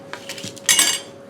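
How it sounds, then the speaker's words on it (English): A lid goes back onto a pot of chow chow relish with a bright metallic clatter that rings briefly and fades, following a few lighter clinks of kitchenware just before it. "Put the lid back on here."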